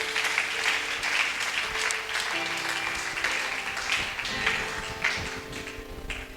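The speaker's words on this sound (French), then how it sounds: "Tu peux acclamer un peu pour la gloire de Dieu." Church congregation clapping together in sustained, dense applause, steady and fairly loud throughout, with a little murmur beneath.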